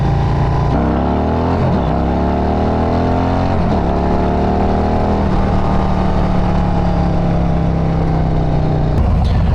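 A Harley-Davidson motorcycle with a Stage III 122 kit revs and accelerates up through the gears from first, loud and close, its pitch climbing in repeated sweeps over a steady rumble.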